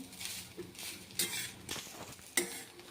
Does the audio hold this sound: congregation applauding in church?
no